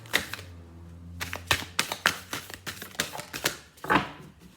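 A deck of tarot cards is shuffled in quick, crisp bursts of riffling and slapping, close and fairly quiet, with short pauses between shuffles.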